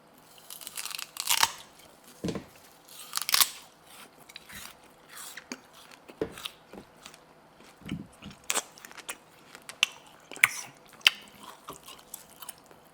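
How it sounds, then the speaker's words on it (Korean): Sugarcane is bitten, torn and crunched between the teeth in close ASMR-style eating, with sharp fibrous cracks and tearing bursts repeating irregularly, broken by quieter spells of chewing and mastication and no talking. "사탕수수 먹방을 해봤는데"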